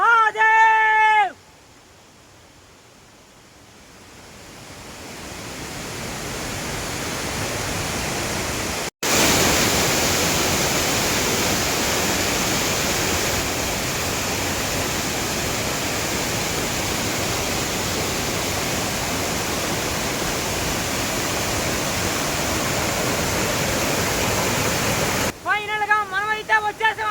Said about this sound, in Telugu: మరో మార్గాన్ని పట్టుకొని జలపాతం కిందకైతే వచ్చేసాం